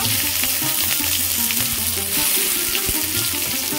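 Chopped onion hits hot oil already seasoned with whole cumin, cinnamon and cloves, giving a dense, steady, loud sizzle with faint stirring scrapes and no talk.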